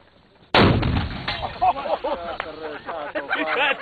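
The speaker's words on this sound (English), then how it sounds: "Little sympathetic detonation there." Sympathetic detonation of explosives: a sudden loud blast that rolls into a sustained, rumbling roar, with voices shouting over the noise.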